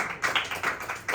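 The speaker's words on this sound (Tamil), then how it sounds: "கைத்தட்டி ஆண்டவர் மகிமைப்படுத்தலாமா?" A church congregation claps hands together in a dense, rhythmic, reverberant burst of many palms at once, with no voices over it.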